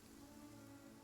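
Steady rain falling in Genshin Impact, a continuous soft hiss that stays even and fairly faint throughout with no other sounds.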